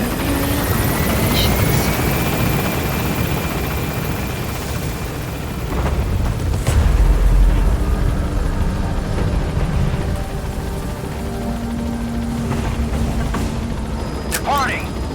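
A helicopter in Metal Gear Solid V lifts off from a landing zone, its rotor thumping and turbine whining loudly and continuously as it climbs, with game effects and a brief radio-style chirp near the end.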